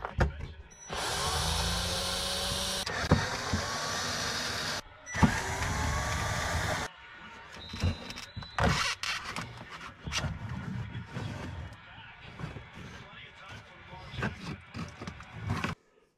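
A power driver whirs in two long, even bursts, unscrewing the four mounting screws of an RV freshwater pump. Clattering and handling noises follow as the pump is worked loose, with a person speaking now and then.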